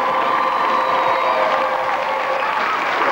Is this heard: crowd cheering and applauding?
yes